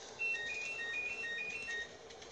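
Phone ringing with a repeating electronic ringtone, a quick pattern of high beeping tones cycling for about a second and a half, fairly faint over a low background hum.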